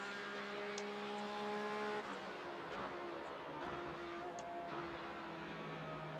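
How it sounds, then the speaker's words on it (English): A mid-engined Porsche 917 Cayman GT4 race car engine hums steadily at a distance, a faint sustained tone with slight pitch shifts and no sharp revs, heard alone. "it is a nice sounding car, I must say"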